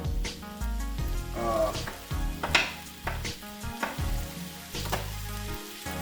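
Broccoli, green peppers and onions sizzle in a pan for beef and broccoli, with rhythmic bursts of frying and stirring, loud low thumps and clatter, and some tonal background sound mixed in.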